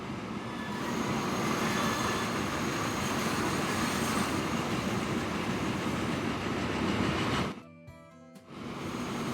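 Steam locomotive running in the video game Transport Fever, a loud continuous rolling rumble of train wheels and carriages on track, briefly cut to near silence before resuming.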